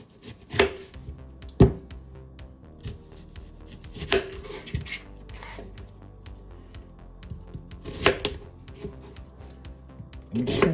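A knife chopping a medium onion into chunks on a cutting board, a few sharp irregular thuds spaced seconds apart with quieter scraping and handling sounds between, close up.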